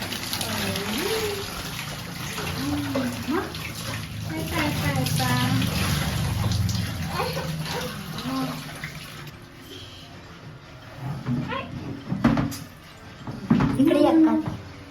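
Water is poured over a small boy during his morning bath at home, making soft splashing and running-water sounds under a woman's near, steady talking.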